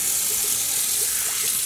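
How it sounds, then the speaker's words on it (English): Tap water runs steadily into a sink to soak dyed yarn, a close, loud and continuous rush with no talking. "let this soak in just some plain tap water for a little bit"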